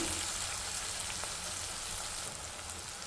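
Onion and tomato fry in a pan for a ladies' finger curry, giving a dense, steady sizzle that stays loud and even from start to finish with no talking.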